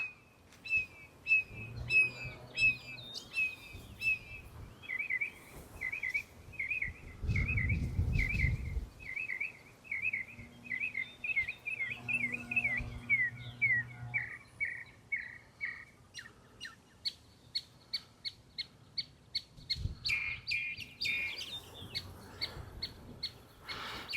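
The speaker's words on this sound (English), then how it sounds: "that's a mockingbird singing all kinds of different songs" A mockingbird at Lake Pflugerville runs through varied songs: rapid repeated trills and chirps in quick phrases that shift pattern every few seconds, fairly close, with occasional footsteps and low rustling beneath.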